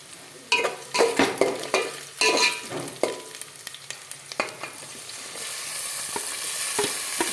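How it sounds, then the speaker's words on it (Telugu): Onions and curry leaves fry loudly in a pan, with vigorous metallic scraping and clanking stirs in the first half, settling into a steady crackling sizzle. "కరివేపాకుతో పాటు ఉల్లిగడ్డ బాగా ఫ్రై చేసుకుంటే టేస్ట్ ఎక్కువ వస్తుంది"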